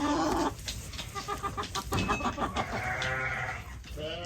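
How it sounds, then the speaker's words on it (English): Hens cluck and murmur in low, throaty bursts close by, with a few higher squawks and other farm animal calls mixed in. "Broody hens right here."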